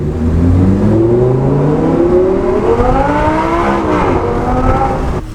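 An Audi R8 V10 with a custom IPE titanium straight-piped cat-back exhaust revs hard up close, its loud, raspy engine note climbing steadily in pitch, easing briefly, then rising again.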